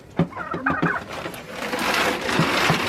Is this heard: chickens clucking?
yes